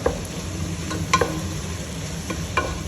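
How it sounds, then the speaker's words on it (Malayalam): Sliced onions sautéing in oil in a pan for kothu parotta, a soft, steady sizzle broken by a few sharp scrapes and clinks of a spatula stirring. "നന്നായി ഒന്ന് വഴറ്റണം"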